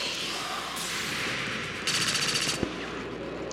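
A short rapid burst of gunfire from a modded Axe-Com 2 battle cuts through a constant noisy game backdrop, followed by a single thump.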